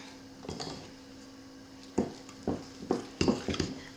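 A spoon scrapes and taps against a bowl while applesauce sourdough discard muffin batter is stirred, in a handful of short, clustered knocks and scrapes with quiet pauses between them.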